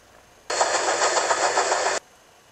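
A train engine's steam sound effect gives a loud, steady hissing rush that starts abruptly, holds for about a second and a half, then cuts off sharply.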